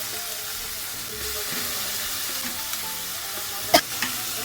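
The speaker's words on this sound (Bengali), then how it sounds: "লইট্টা মাছ রান্না করতেছি সরিষার তেল দিয়ে।" Loitta fish frying in mustard oil with tomato and spices gives a soft steady sizzle, with a few close spoon clinks and stirring scrapes near the end.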